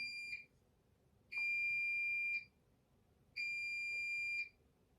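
Three loud, steady electronic alarm beeps, each about a second long with pauses between, piercing and alone in a quiet room.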